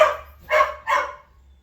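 A puppy on a rural Western Pennsylvania homestead barks three times in quick succession, close and sharp, with short gaps between the yaps and no talking.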